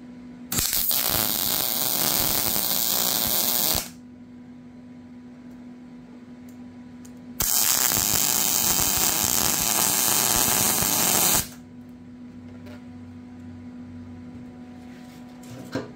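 Tack welding on a metal John Deere mower deck: two sustained bursts of loud crackling, buzzing arc noise, each lasting a few seconds, separated by a quieter electrical hum.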